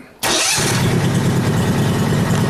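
Case 220 garden tractor engine started by push button: a brief quiet moment, then the engine catches abruptly and settles into a loud, steady idle that continues to the end.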